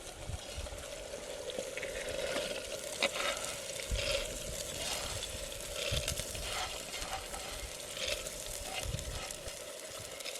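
Moth beans tossed into a vegetable curry sizzling in a pan, with continuous frying crackle and irregular scraping and stirring knocks throughout.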